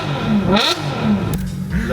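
A car engine fitted with a changed, modified exhaust revs hard up close, its deep throaty roar rising and falling under overlapping talk.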